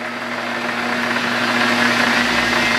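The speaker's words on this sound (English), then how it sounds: "we'll turn the lathe on and give it a try" A lathe motor spins up from its low-speed setting, a steady mechanical hum with a fixed whine that grows slightly louder and fuller as the speed rises, close by with no talking.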